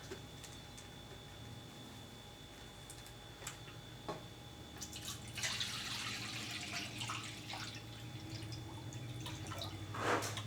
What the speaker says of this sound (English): Let me pump out my liter of water here